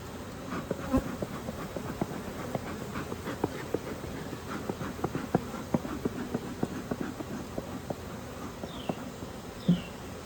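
Honey bees buzz around an open hive during a hive inspection, a dense steady hum with many individual bees darting close past the microphone in soft, irregular whirs, with no talking.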